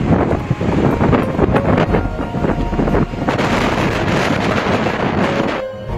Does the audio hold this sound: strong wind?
yes